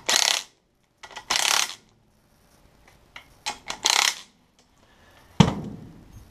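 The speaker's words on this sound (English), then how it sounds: "I'm just going to go back and torque all these." A torque wrench tightens the transmission bellhousing bolts on a DeLorean, giving a few separate bursts of ratcheting clicks with short pauses between them and a sharp metallic click near the end.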